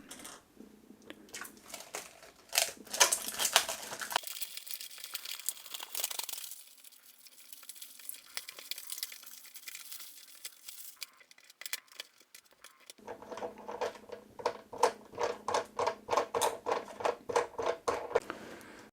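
Crinkly plastic protective film is peeled off a heavy handheld briefcase-style game console with a built-in N100 mini PC, with rustling bursts at the start, a quiet stretch, then a rapid crackling run near the end.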